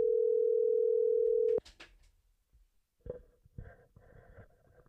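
Steady telephone dial tone holds for about a second and a half, then cuts off into quiet handling noises and a few soft clicks and rustles.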